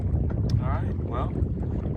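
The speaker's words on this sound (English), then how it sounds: "a sudden gust of wind came, and now we have wind from the east" Wind gusts on a mountain lake while sailing, a rough, blustery rumble buffeting the microphone under faint boat and water sounds, with a voice partly audible.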